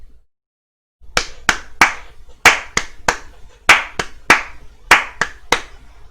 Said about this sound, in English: they clap, like that golf clap that I'm obligated to clap because I'm here.